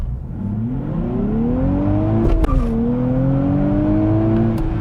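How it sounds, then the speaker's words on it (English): A 2023 Nissan Z Proto Spec, a twin-turbo sports car, launching hard with launch control and traction control off, its engine note climbing steadily through a gear, briefly dipping at a shift, then rising again, loud and close. "turn off the traction control in this car, dump the clutch, or use the launch control, dump the clutch"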